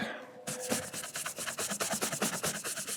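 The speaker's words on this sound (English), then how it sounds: "I will take a horsehair brush and just give them both a once over" A horsehair brush rubbed over a leather cowboy boot in quick back-and-forth strokes, a close, soft rhythmic scrubbing that starts after a brief pause and repeats steadily.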